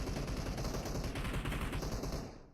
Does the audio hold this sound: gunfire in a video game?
yes